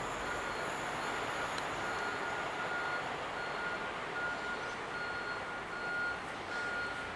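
A Class 350 electric train runs past at South Hampstead, a steady loud rumble of wheels on rail with a thin high whine throughout, no voices.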